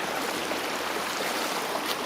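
A nearby outdoor stream rushes in a continuous, loud, even wash of flowing water, with no voices over it.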